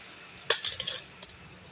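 A spoon clinks against a glass while sugar is stirred into sharbat, a few quick bright taps and scrapes close by, brief and fairly quiet.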